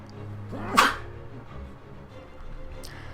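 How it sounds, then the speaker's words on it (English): A single sharp human sneeze, close and loud, cuts through the quiet background of a Binding of Isaac gameplay session, then fades into faint ambient noise. "I feel a sneeze coming on."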